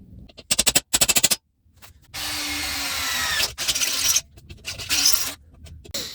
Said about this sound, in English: I'm going to have to drill a hole here for a second bolt